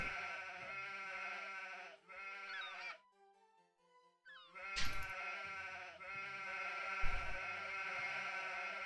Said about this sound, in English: Wow, these sheep are so annoying.